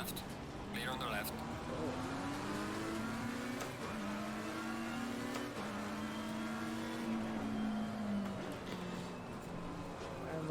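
Race cars in Assetto Corsa Competizione scream through gears, with engines rising and falling as they accelerate, brake and downshift, while a driver talks over the continuous engine noise.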